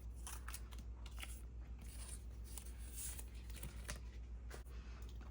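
Scissors snipping through paper to cut out a teacup shape, a series of close, crisp crunching cuts with small pauses between them, no talking.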